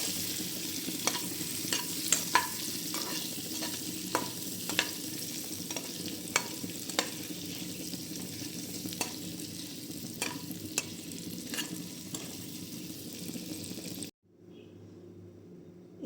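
Halved boiled eggs fry in an oiled pan for an egg bhapa dish, under a steady, close sizzle with repeated spatula taps and stirring scrapes, then the sound cuts to near silence at the end.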